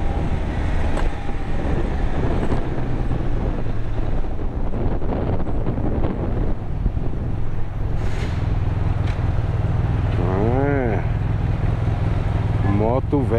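Old motorcycle riding along, a constant loud engine and wind rumble throughout, with a person talking over it and brief warbling tones near the end.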